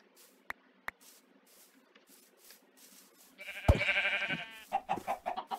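A sheep in the Minecraft video game gives a loud, close bleat after a few soft taps, followed by shorter wavering bleats.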